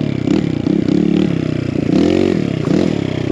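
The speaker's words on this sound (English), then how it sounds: "we got the D3 exhaust finally on the bike and it sounds sick" Kawasaki KLX170RF dirt bike fitted with a D3 exhaust revs loudly and close, its engine note rising and falling in quick bursts with rattly mechanical clatter, no voices.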